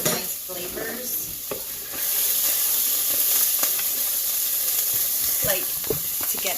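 Natural rice vinegar hits a hot pan of beef stew drippings and bursts into a loud, steady sizzle with hissing steam, along with stirring and scraping that loosens the browned bits.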